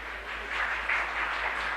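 Audience at a News11 Bharat conclave applauds a speech by AJSU chief Sudesh Mahto, a continuous, fairly distant patter of many hands clapping with no voices on top.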